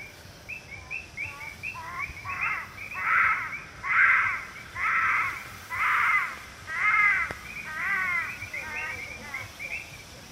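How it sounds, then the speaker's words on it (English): A greater galago calls at night near Nairobi, a series of about eight harsh, croaking calls repeated at a steady pace, moderately distant and rising and falling over a quiet background hiss. "you can hear a Galago calling in the background"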